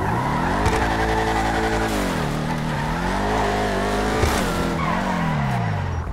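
A Chevrolet Camaro in the video game GTA Online revs hard with continuous tire squeal, the engine pitch rising and falling through gear changes, loud and sustained throughout.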